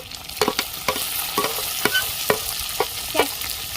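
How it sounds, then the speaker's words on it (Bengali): Two chopped tomatoes go into a hot frying pan for small-potato aloo kosha, a steady close sizzle broken by a regular series of scraping spatula stirs roughly every half second, with no talking. "কেটে রাখা দুটো টমেটো দিয়ে দিচ্ছি"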